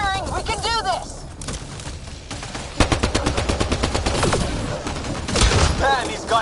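Rapid automatic gunfire from the Mass Effect Andromeda shooter, loud and near, bursts of repeated shots running through most of the stretch with a heavier blast near the end, under busy combat noise and shouted voices.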